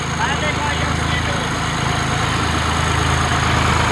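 A John Deere 5310 tractor engine runs at 1000 RPM with a steady, loud, low diesel throb that holds constant throughout, with no break in the idle-like drone.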